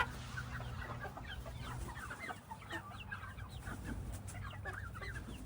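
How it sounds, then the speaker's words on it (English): A flock of chickens on a farm coop, roosters among them, cluck steadily and overlapping at close range over a low background hum. "That one is definitely a rooster, if I've ever seen one."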